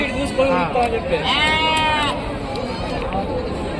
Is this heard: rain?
no